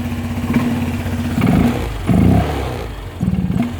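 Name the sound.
Honda Vario scooter engine revving with velocity stack intake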